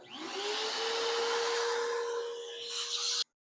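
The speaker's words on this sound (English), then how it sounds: "we're just going to vacuum that up real quick" A vacuum cleaner whines loudly for about three seconds, its pitch rising at start-up, then cuts off abruptly into silence.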